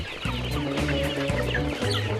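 Chickens cluck together at a coop on a hillside behind a farmhouse, a steady run of overlapping clucks and short calls from several birds, close and fairly loud with no voices.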